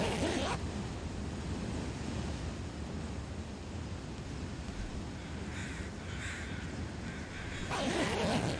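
Crows in The Long Dark survival game call amid a steady windy outdoor wash, harsh caws rising near the end and faintly mid-clip, with the wind hiss constant and no speech.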